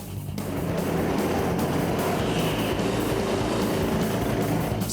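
A race car runs warm-up laps on a track, a loud continuous engine roar and road rumble that rises quickly and holds steady throughout.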